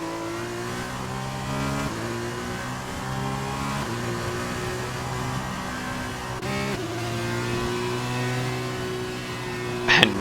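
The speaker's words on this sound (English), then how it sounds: "Clearly knows how to drive the Formula 2 cars in this game." Formula 2 race car engines in a racing video game, a loud high-revving whine climbing through gear changes in repeated upshift steps, with a brief tire squeal near the end.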